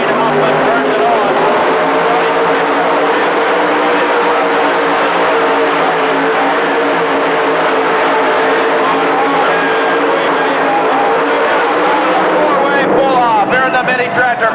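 A 1750 mini rod puller roars during an indoor tractor pull at a 1985 event, a loud sustained engine howl filling the whole stretch with an announcer talking over it.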